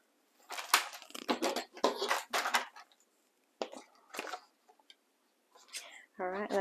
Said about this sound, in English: I'm just cutting all the way up that score line.